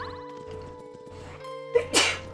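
A single sharp sneeze bursts out near the end over quiet retro game music and sound effects, with a short intake of breath just before it.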